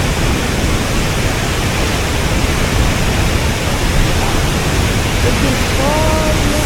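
A waterfall in Baler, Philippines, where people swim: a loud, steady broadband rush of falling water fills the whole stretch, with faint voices under it.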